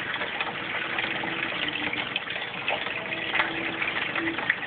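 Water drains steadily through an aquaponics bell siphon as a continuous, moderately quiet gush and trickle with no break, ending with a swirl.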